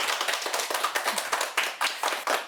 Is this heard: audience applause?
yes